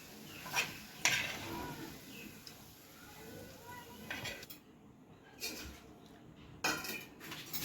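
Clinks and scrapes of a utensil against a pan and plate as fried onions are transferred out for chicken biryani, a few sharp knocks spaced through the clip over low kitchen background.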